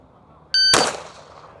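A pistol shot fires at a steel target range: a brief electronic tone sounds first, then one sharp, loud crack with a short ringing decay that fades over about a second. The setting is otherwise quiet, with no voices.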